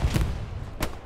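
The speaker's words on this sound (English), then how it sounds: "I don't like the fact that the ground is exploding around me." Two heavy, muffled booms from explosions in the war game Hell Let Loose, one at the start and one near the end, with low rumble between them.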